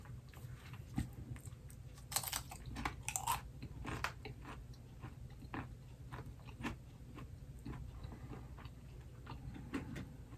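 Someone eating a piece of oven-cooked bacon, close crisp bites and steady crunchy chewing with irregular clicks, and no talking.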